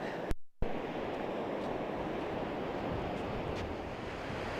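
Surf washes steadily onto a vast, windy Irish Sea beach, with a broad continuous roar of waves and gusts buffeting the microphone near the start.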